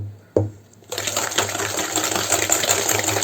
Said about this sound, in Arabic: زدنا البنات السكر، غادي نحركو دابا نبدلو الخليط مزيان